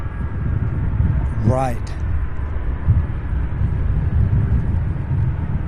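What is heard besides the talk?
McDonnell Douglas MD-11 aircraft taking off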